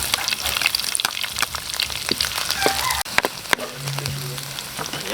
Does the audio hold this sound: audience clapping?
no